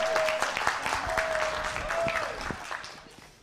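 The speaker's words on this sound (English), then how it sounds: "Give me a hand clap" A church congregation claps along in a dense rhythmic patter while a sustained organ or keyboard note hums underneath, the clapping gradually softening toward the end.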